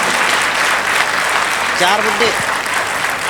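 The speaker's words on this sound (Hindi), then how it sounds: "तो एक बार आप भी तालियों से मेरा बैलेंस बना दीजिए।" Audience clapping at a Haryanvi comedy show in Tohana, a full burst of applause with a voice briefly speaking over it.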